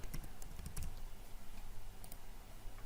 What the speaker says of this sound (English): Now if you type anything here